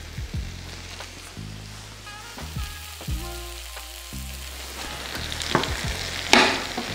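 An egg fries in a pan while cooking ginisang ampalaya, a steady close sizzle running throughout, with a few soft utensil knocks and a brighter crackle near the end.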